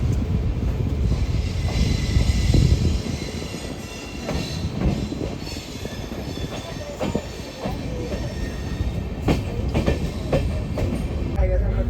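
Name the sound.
Gour Express passenger train running with LHB coaches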